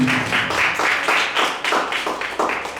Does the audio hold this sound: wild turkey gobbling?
no